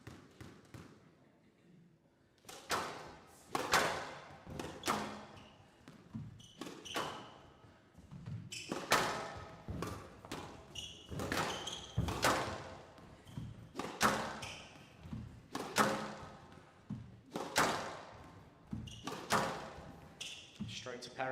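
A professional women's squash rally involving a player, a steady run of sharp ball strikes against rackets and walls roughly every second, echoing in the court, with commentary voices between shots.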